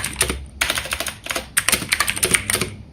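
Fingers tap out Python code on a computer keyboard in brisk clusters of crisp key clicks with a short pause between them, close and clear with no talking.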